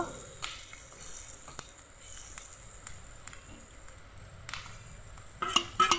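Red chili frying in a pan and being stirred, a soft continuous sizzle broken by intermittent scraping strokes of the spoon, with a few louder clanks at the end.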